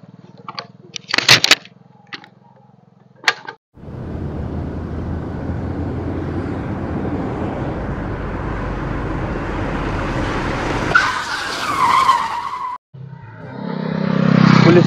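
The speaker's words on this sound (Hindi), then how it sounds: "गाड़ी चलाऊंगा मैं।" Car driven hard with a long, loud broadband skid and tire squeal under engine roar, lasting about nine seconds, after brief clicks and a short pause, then a low rumble rising at the end.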